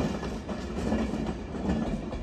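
A class 350 electric train pulls out of Crewe station, giving a continuous broad rumble with faint rhythmic wheel clatter at moderate distance and no talk.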